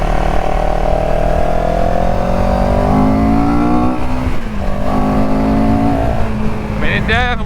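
A CFMOTO CLX 700 motorcycle engine revs steadily and climbs through the mid-range, its droning pitch rising in long sweeps, loud and close throughout.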